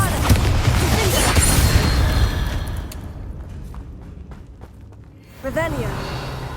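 Spell blasts and explosions going off in a Hogwarts Legacy game, a dense rumbling burst at first that fades, then another boom near the end, heard alongside a voice.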